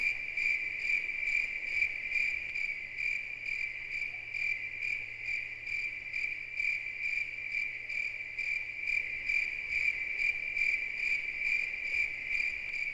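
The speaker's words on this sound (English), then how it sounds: "These crickets are absolutely restless." Steady, dense chorus of night crickets in the PS1 game Lunar 2: Eternal Blue, a continuous high pulsing trill at even volume with no voices or other sounds.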